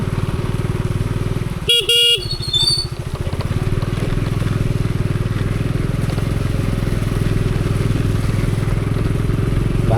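A motorcycle rides along a broken, waterlogged village road with a steady close engine drone, interrupted early by a short double horn toot.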